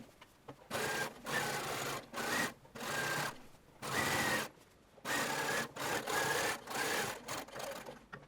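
A sewing machine stitches a shirtwaister dress in repeated bursts of rapid mechanical whirring, each lasting about a second, separated by short pauses, close and clear with no voices.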